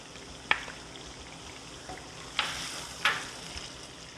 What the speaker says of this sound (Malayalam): ഒന്നുകൂടി ഇളക്കിയെടുക്കാം